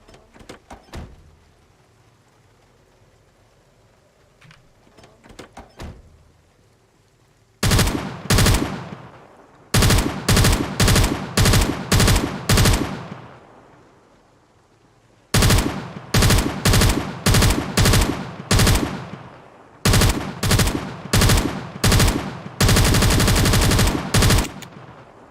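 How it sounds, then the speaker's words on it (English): Light machine gun fired in the Project Zomboid video game: several long, loud bursts of rapid automatic fire separated by short pauses, preceded by a few quiet thuds and clicks, with no talking. "I think now is light machine gun time."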